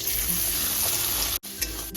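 Chopped onions fry in hot oil in a pan and are stirred, giving a close, dense sizzle with scraping strokes and a brief pause near the end.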